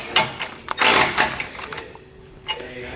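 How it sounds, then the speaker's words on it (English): Socket wrench tightening bolts with an 11/16 socket on a Roadmaster crossbar-style base plate on a 2019 Jeep, a close, busy run of ratcheting clicks and metallic rattles in bursts. "Then we can tighten it down with an 11/16 socket."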